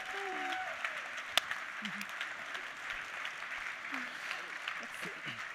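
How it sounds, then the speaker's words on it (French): Audience applause closing an improv comedy show, a steady wash of clapping from a crowd with a few short cheers and someone speaking over it. "On peut les applaudir bien fort, c'est la fin de l'improvisation, mesdames et messieurs."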